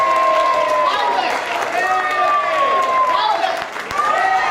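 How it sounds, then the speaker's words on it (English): Audience standing at a women's leadership event clapping and cheering, a loud stretch of applause with voices whooping and rising shouts of delight. "Clap your hands and say yay as much as you can."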